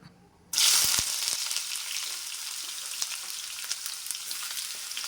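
Chopped bitter gourd drops into hot coconut oil with a sudden loud burst of sizzling, then settles into a steady, close frying crackle with occasional pops.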